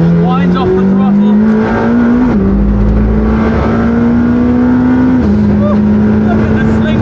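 A McLaren supercar engine on a race track, loud and close throughout: a steady, droning note that climbs gently twice and drops in pitch at each step as the throttle eases.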